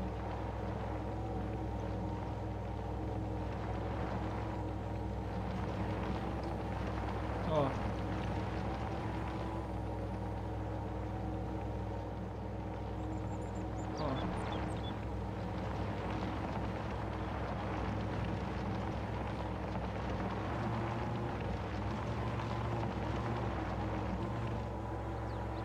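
A modded 1975 Honda CB 750F motorcycle rolls along asphalt in Farming Simulator 22, its engine a steady low droning hum throughout with slight swells in revs and no talk.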